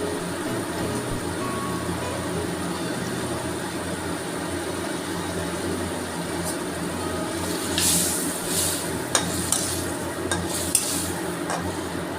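Dried fish and potatoes sautéing with salt, turmeric and cumin powder in a pan, a steady low sizzle and stirring scrape running throughout, with a few sharper utensil clinks near the end and no talking.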